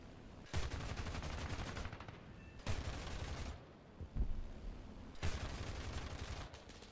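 A 30mm aircraft cannon in War Thunder fires three long, heavy bursts of rapid rounds, loud and close, with short gaps of quieter engine noise between them.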